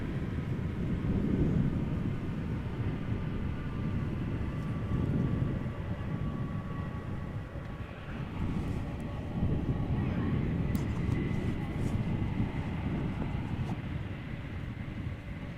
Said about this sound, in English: Not the very loudest of landings, but definitely a nice one.